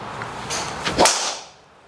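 A swishing whoosh of a golf driver swing, Titleist TSR3 or Callaway Rogue Max LS, ends in one sharp, crisp impact on the ball, followed by a fading rush of air.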